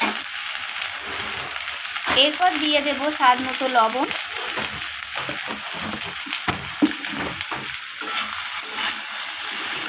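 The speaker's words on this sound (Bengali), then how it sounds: "সব কিছু মশলা এইভাবে মিশিয়ে নিয়ে ভাজা করে নিতে হবে সবজির সাথে" Red amaranth stems and spices sizzle steadily in a pan, cooked vegetarian without onion or garlic. A voice talks over the constant frying hiss for a few seconds early on.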